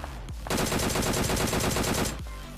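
A DP machine gun fires in a battle royale video game: one sustained, rapid, loud burst of evenly spaced shots lasting about one and a half seconds, with no talk.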